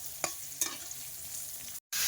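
Eggplant pieces frying in oil seasoned with salt and turmeric, a steady soft sizzle with a couple of brief stirring clicks, close by, then a short gap of silence before the sizzle resumes.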